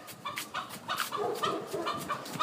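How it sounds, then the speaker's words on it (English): A chicken clucks in a steady string of short, fairly quiet calls near the listener, with no voices over it. "It's a chicken vlog."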